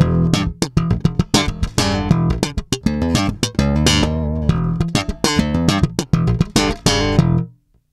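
An Alembic bass played on the neck pickup with the filter fully open and the Q switch on, a loud, close run of punchy plucked notes with deep lows and bright attack, ending abruptly in silence, no voices.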